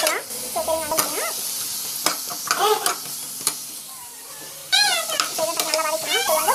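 Tomato and coriander sautéing in a pan, a steady close sizzle and hiss broken by stirring scrapes, with a voice speaking over it throughout.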